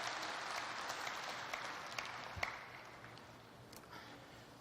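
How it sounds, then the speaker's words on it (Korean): A crowd at a 2006 Ambassadors for Peace address applauds steadily, a dense clapping texture from a large audience at moderate distance, tapering slightly toward the end. "박수해요."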